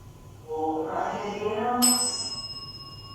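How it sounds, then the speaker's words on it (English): A single bright bell ding rings out sharply, its clear tone lingering and fading, following a soft murmuring voice. "The bell."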